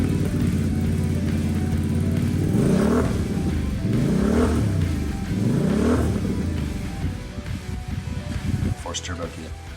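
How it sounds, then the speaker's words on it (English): A 2022 Can-Am Defender UTV with a turbo kit revs outdoors, the engine climbing and dropping in three repeated swells over a steady idle before settling back, close and loud, with someone talking over it. "let's give her some gas"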